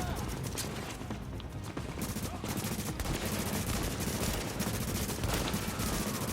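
A boss in the video game The Division unloads a minigun, a dense continuous rattle of rapid gunfire with scattered heavier shots throughout, loud and sustained for the whole stretch.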